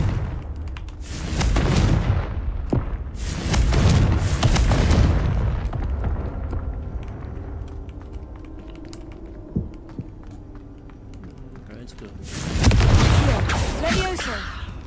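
Confringo fire spell explosions in Hogwarts Legacy, a few loud booming blasts with rumbling tails, separated by quieter stretches of game ambience and faint clicks.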